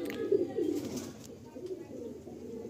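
Pigeons coo in a loft, red pigeons among them, with low throaty burbling calls repeating in close bursts, loud at first and then softer, under faint background noise.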